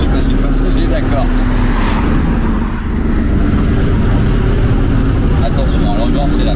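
A Pontiac Firebird's engine pulling hard while driving, a loud sustained roar with a brief dip partway through, under a man's speech.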